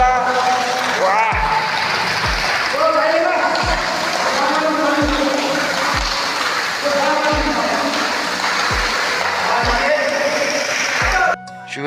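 Water runs steadily from a newly connected metered water tap, a constant rushing stream under people talking, with soft low thumps recurring roughly every second.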